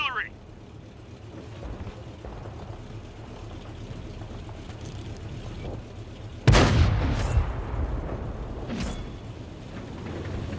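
Artillery fire in the World of Tanks video game: one loud, sudden boom breaks through a low engine rumble, then a rolling decay with fainter follow-up cracks, over quiet background talk.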